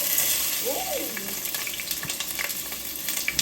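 Onion sizzling as it hits about a tablespoon of hot oil in a pan for Japanese beef curry, a steady bright frying hiss throughout, with a brief vocal exclamation near the start.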